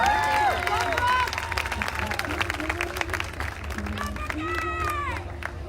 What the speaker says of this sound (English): just give these ladies a nice round of applause